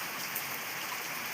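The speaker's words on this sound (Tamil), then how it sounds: "இப்போ தேவையில்லாத மழை எங்கள் ஊரில் அறுப்பு நேரத்தில்." Rain falls over harvest-ready rice paddy fields in Thoothukudi district, a steady, even patter and hiss of drops from nearby with no pauses and no voices.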